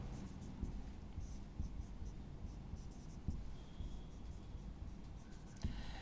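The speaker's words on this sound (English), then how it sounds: "Let me write ethylene diamine." Marker or chalk writing on a board during a chemistry lecture on complex compounds: quiet, steady scratching and tapping strokes close by, with little talk and a faint background hum.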